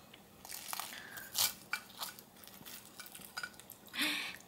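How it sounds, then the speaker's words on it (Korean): A knife and fork cut through a crisp, cheese-filled potato croquette on a plate, giving a few soft crunches and light clinks of cutlery, fairly quiet and with no talking. "고로케를 한번 잘라볼까요?"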